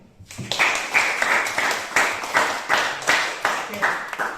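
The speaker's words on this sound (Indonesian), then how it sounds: "Jadi kita kasih dulu tepuk tangan." Classroom students clapping for a group that has just finished presenting its discussion results, a burst of close, energetic hand claps with a steady pulsing rhythm throughout.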